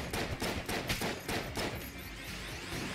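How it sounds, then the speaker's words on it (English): Friendly gunfire in the video game Enter the Gungeon, a rapid burst of repeated game gunshots for about two seconds, then a quieter tail, with no speech over it. "I think I heard some more friendly fire up there."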